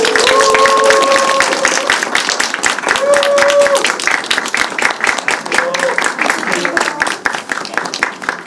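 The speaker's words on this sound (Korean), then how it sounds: "힘찬 박수" Audience clapping at a film screening and director Q&A, a dense, close run of hand claps that slowly thins out, with voices talking over it.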